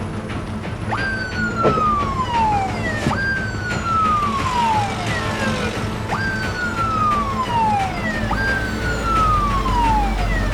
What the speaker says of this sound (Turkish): Şu sireni çalıştır, beklemeyelim.